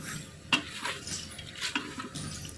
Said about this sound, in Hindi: हमने चिकन को भी 2 मिनट के लिए भून लेना है